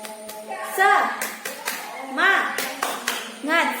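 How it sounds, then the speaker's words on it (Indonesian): Schoolchildren in an Indonesian primary classroom clap the rhythmic "tepuk semangat" pattern in short bursts, mixed with their chanting voices. "Tepuk semangat."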